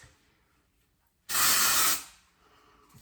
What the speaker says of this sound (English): I just kind of spray it, those oily areas